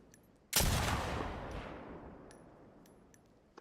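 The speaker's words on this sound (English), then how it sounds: "Tommy's got that good sniper rifle." A single loud sniper rifle gunshot cracks out close by, then a long rumbling echo fades slowly over several seconds with no talk.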